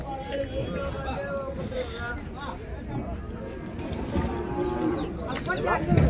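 A native cow at the Vaniyambadi cattle market lets out drawn-out moos against open-air wind noise and a busy outdoor hum, with someone talking over much of it.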